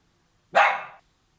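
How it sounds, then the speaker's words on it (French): A female dog gives a single loud, sharp bark close by, lasting about half a second, in an otherwise quiet room. "c'était ma chienne qui aboyait"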